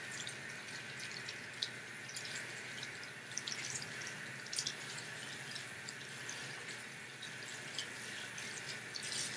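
Tap water runs steadily into a sink while hands are rinsed under it, a continuous close splashing hiss with a few brief drips and splats standing out, and no talking.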